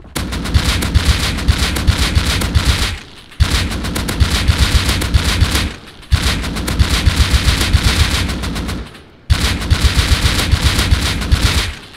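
AK rifle in the video game Rust fired without a muzzle boost, loud close full-auto bursts of about three seconds each, four in all, split by brief pauses.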